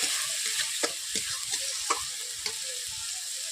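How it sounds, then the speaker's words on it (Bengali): Spice paste with turmeric and chilli powder fried and stirred in a pan for a Bengali mustard fish curry, a steady bright sizzle broken by several sharp scrapes of the spoon, close and without talk. "মশলাটাকে আমি সবগুলো উপকরণ দিয়ে আমি কষিয়ে নিচ্ছি"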